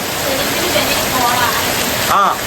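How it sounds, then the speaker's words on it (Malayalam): Heavy monsoon rain pours down in Malappuram, a dense, even hiss of rain on surfaces filling the whole stretch, loud and continuous, with a voice briefly audible near the end. "പെരുമഴയാണ്."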